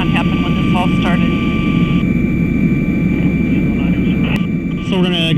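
Air medical helicopter in flight, a steady loud rotor and engine drone filling the cabin throughout, with faint tonal whines and brief electronic chirps on top.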